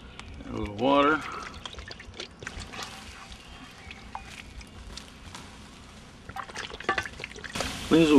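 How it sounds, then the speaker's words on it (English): Water is poured into a dirty pan holding coals at a wilderness campsite, giving a short splashing pour with a light trickle and sizzle; brief voices sound at the start and end. "Add a little water."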